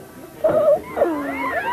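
A cat gives two short, close meows, the second rising and trailing off, against a quiet background with no talking.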